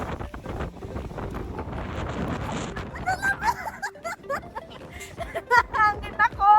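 Strong wind gusts outside ahead of a snowstorm, buffeting the microphone in uneven bursts while a person talks close by.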